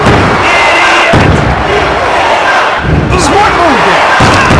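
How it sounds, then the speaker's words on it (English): A loud wrestling-arena crowd in the WWF Attitude game on Dreamcast roars and chants in surges, broken by heavy thuds and slams from the ring, with brief shouts rising over the din. "This crowd is pumped up. They are jacked. They should be chanting."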